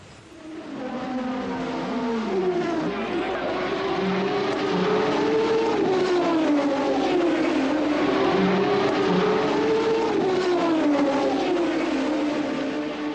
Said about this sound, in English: the Williams Formula One racing car, sponsored by ICI in Grand Prix events